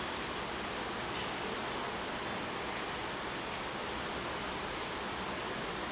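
A fine spray hisses over an open beehive during a spring apiary visit, a steady, even wash of soft noise that continues unbroken throughout.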